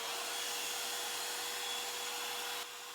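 Revlon brush hair dryer blowing air through hair, a steady high whine with a constant tone, close and loud, then a slight drop in level near the end.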